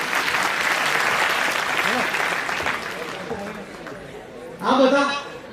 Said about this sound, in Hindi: एक और तालियां दे दूंगा।